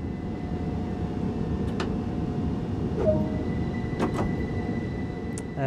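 A train in Train Sim World's East Coastway line at Eastbourne, finishing its night service: a steady low rolling rumble with a few brief sharp high squeals and hisses scattered through it.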